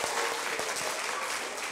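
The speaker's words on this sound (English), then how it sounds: "one more big round of applause for these guys" Brief, steady applause from an audience at a young people's book prize event, a dense wash of clapping heard at moderate level without talk.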